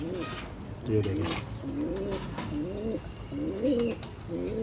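Rampuri pigeons coo repeatedly in soft, rolling, low-pitched calls, several birds overlapping, with faint rustling and a distant voice in the background.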